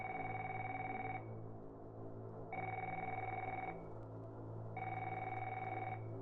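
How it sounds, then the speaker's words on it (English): A telephone bell rings three times in steady, evenly spaced bursts, each about a second long, with a low hum underneath and no voices. "he heard the phone at the front counter ring."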